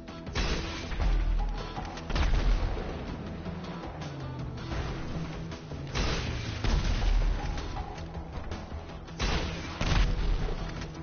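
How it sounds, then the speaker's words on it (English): A video game rocket launcher fires by mistake amid a string of heavy, booming blasts and crashes. The loud explosive bursts land every couple of seconds over dense, continuous game noise. "I shot the rocket by mistake there"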